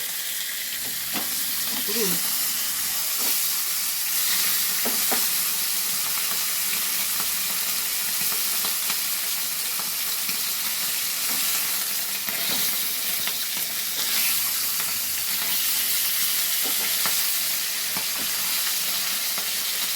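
A fish head fries in oil in a pan for a Bengali fish curry, with a loud, continuous hiss and crackle and a few soft clinks and scrapes of stirring.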